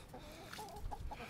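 Hens softly clucking in short murmured calls, faint and close by, with low rustling in between.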